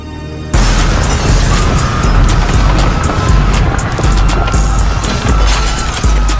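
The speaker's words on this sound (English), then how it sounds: "we're going to attack the medieval castle with 100 fireworks that will go off all at" A hundred fireworks go off at once against a medieval castle, a sudden loud roaring barrage of overlapping booms, crackles and pops that starts abruptly and stays dense and continuous for several seconds.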